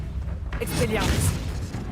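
A player casts the Expelliarmus disarming spell in the video game Hogwarts Legacy. The magical burst swells into a booming, whooshing blast about halfway through, over a low rumbling game background.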